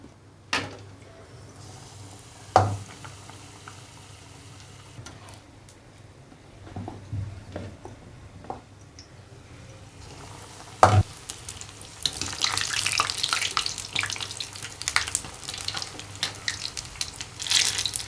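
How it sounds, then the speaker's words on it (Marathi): Brinjal slices coated in besan batter frying in hot oil for Maharashtrian vangi vade. A few soft clinks come first, then a dense, steady sizzle swells and continues to the end. "आता आपण गरम तेलामध्ये घालू"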